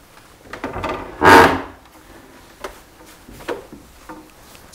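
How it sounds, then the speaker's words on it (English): An old wooden cabinet in an abandoned 12th-century castle in France gives one loud, harsh creak as it is moved, followed by fainter knocks and rattles in a quiet room. "It's crazy how stuffed those massive cabinets are. Squeaky. Yeah, very squeaky."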